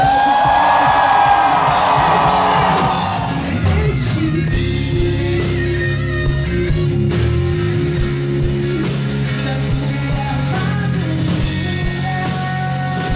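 A large congregation at a Catholic worship event lets out a loud shout of victory, a brief cheering roar that fades into sustained crowd noise and music.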